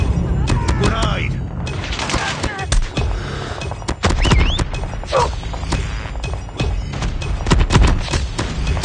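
Loud video-game combat mix in which a grenade blast lands among bursts of gunfire, crashes and mechanical noises, with game voice callouts over the din.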